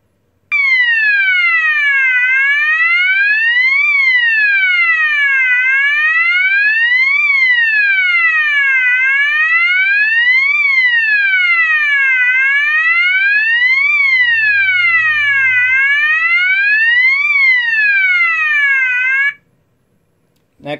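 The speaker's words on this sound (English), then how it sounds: "I think it's used in Germany sometimes as an evacuation signal" Loud, continuous rising-and-falling electronic siren tone from an E2S A100DC24R alarm sounder, sweeping up and down in a regular cycle about every two seconds, then stopping abruptly near the end.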